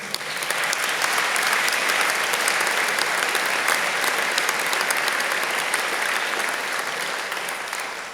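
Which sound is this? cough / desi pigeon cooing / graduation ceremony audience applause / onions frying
graduation ceremony audience applause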